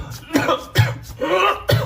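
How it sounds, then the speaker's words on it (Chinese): A person coughs four times in a row, loud and close, each cough a harsh, throaty burst with short gaps between. "整这点玩意儿差点没他妈给我咳嗽吐了。"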